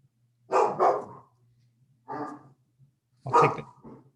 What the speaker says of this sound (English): That bark is not a nay